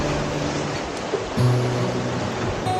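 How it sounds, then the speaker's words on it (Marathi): Sea surf rumbles and churns steadily as waves surge into a narrow rock gorge at Hedvi on the Konkan coast, a dense wash of water noise with a stronger surge partway through, close and loud. "समुद्राचे हजारो लिटर पाणी एकाच वेळेला या घळीमध्ये प्रवेश करते"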